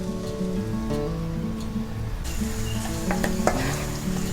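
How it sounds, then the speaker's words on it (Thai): Minced garlic sizzles in hot oil over low heat, a steady close crackling hiss with occasional scraping taps of stirring and no voices. "พอน้ำมันเริ่มร้อนเราก็ เทกระเทียมที่เราสับไว้ลงได้เลยค่ะ"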